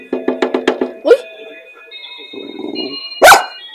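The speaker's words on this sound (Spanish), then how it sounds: "Ahora sí ladró." Small dog Luna barks a quick run of about six yips close by, then gives a single louder bark and a final sharp bark after a pause, with a voice speaking between them.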